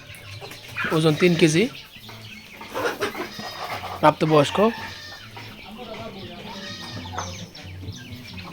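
An adult rooster of about three kilograms, offered for sale at a poultry seller's in Mymensingh, gives two short, loud harmonic calls in bursts amid ongoing nearby talk and farmyard background.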